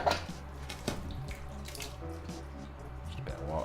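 Tap water runs into a pan in a steady, close splashing stream, with a few sharper splashes and clinks over a low hum from a nearby pump.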